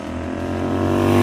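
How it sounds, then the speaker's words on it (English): A Royal Enfield GT650 scrambler's parallel-twin engine rumbles through torpedo mufflers, a loud, close, steady exhaust note that swells gradually as the revs climb. "The exhaust on this twin engine setup sounds absolutely magic"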